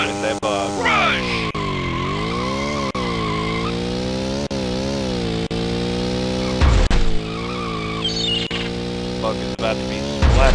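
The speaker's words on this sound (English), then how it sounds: "Today, we will be racing on Seattle with a bug." A Volkswagen Beetle races through Seattle in the Rush 2 video game, its engine droning and shifting pitch continuously while tires squeal and skid loudly, with sharp bursts near the middle and end.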